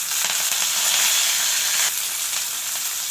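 Mustard seeds, cumin, dried chili, onion and curry leaves tempering in hot oil for sambar, a loud, close, continuous sizzle that changes texture about halfway through.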